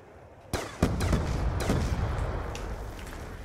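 Gunfire in the Buried map of Call of Duty Zombies, a sudden loud volley of sharp, closely spaced shots that booms on into a sustained rumbling barrage.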